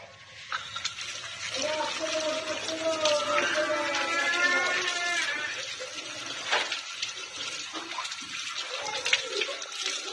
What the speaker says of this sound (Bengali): তো এখন আমি হাতটা ধুয়ে নেব।